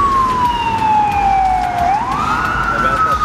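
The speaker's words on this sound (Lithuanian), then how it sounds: "Tik greitoji pravažiavo." An ambulance siren wails on a road, a loud steady tone sliding down and then rising as it passes close by, with road noise underneath.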